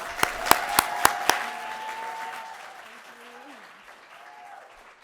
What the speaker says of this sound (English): A round of applause for Torianne.